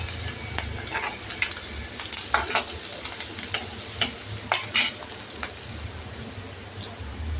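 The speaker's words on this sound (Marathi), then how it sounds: "कढीपत्ता छान परतून घ्यायच्या, मिरच्या तेलात तळून घ्यायच्या छान." Green chillies and curry leaves fry in hot oil with a soft, continuous sizzle, broken by sharp spatters and pops as seeds burst and a spoon stirs.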